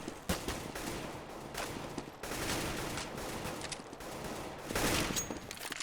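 AK rifle fire in a competitive shooter match, repeated bursts of suppressing gunfire rattling at moderate distance, fairly quiet and steady with a few louder sharp stretches.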